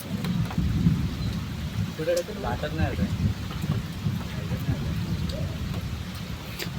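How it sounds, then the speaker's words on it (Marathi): Heavy rain pouring outdoors with a low thunder rumble underneath, a steady wash of sound throughout, while a voice speaks faintly in the middle. "पावसाला पण आताच यायचा होता"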